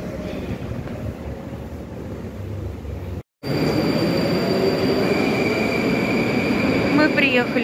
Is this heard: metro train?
yes